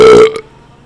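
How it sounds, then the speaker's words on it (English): A loud, close burp after a swig of beer, tinged with pickle, lasting about a quarter second and ending in a brief gulp before quiet. "Those pickle burps."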